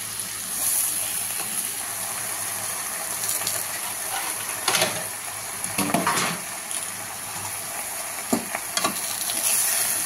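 Malabar spinach leaves stir-fried with shrimp in a pan: a steady sizzle under intermittent scraping and stirring strokes of a utensil against the pan, fairly close and with no talk.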